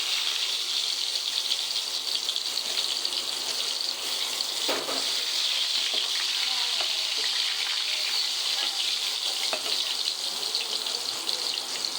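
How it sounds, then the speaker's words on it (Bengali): Potatoes frying in hot oil in a home kitchen while making biryani, a steady broadband sizzle and crackle with a few sharper pops, close and continuous throughout. "তেলের মধ্যে আলুটা দিয়ে দিলাম।"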